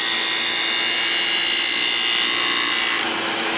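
A Wissota ice skate sharpener grinds steadily and loudly as a shop vac nozzle pulls away the sparks and dust. The dense abrasive whir and suction roar hold continuously throughout with no voices.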